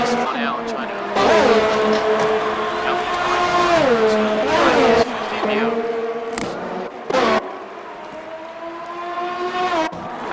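A racing game car at the Netherlands Grand Prix spins out, engine whining and swooping in pitch alongside tire skids, loud and close, with a commentator talking over it.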